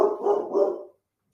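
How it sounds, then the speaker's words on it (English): Dogs barking indoors: a single close, loud burst of two or three quick barks that cuts off abruptly into silence. "I'm sorry if my dogs are barking too loud back there"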